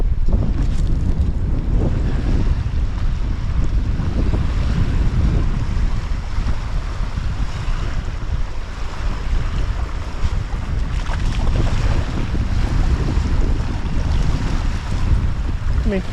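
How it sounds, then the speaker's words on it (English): Strong gusting wind buffets the microphone with a heavy continuous roar on a shore with an incoming tide, water sloshing underneath, no voices. "So the wind's blowing the wrong direction for our cook-up. So it's quite windy."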